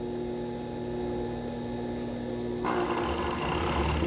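Sewing machine running with its presser foot while stitching a ruffled top: a steady mechanical hum, then a brighter, busier whirr as the stitching speeds up partway through.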